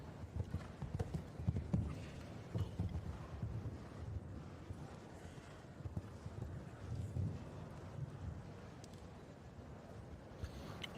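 L&L Lorde, a nine-year-old show-jumping stallion, moves over an arena surface with faint, muffled hoofbeats under steady wind and crowd-like background noise.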